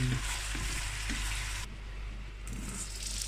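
Food sautés in a pan for paella with artichokes, a continuous close sizzle and frying hiss with faint stirring, which briefly softens partway through before picking up again.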